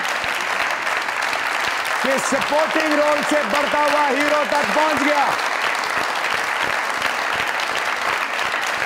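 Loud, continuous studio audience applause fills a Pakistani comedy talk show set, while a host speaks over the clapping partway through before the crowd noise carries on alone.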